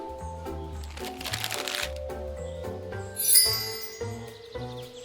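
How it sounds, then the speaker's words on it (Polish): A gray box being wrapped in purple paper during toy play, with soft crinkling and rustling of paper and occasional light taps and clicks, set against steady background music. "Dino teraz ten fioletowy papier musi całkowicie zapakować nasze szare pudełeczko"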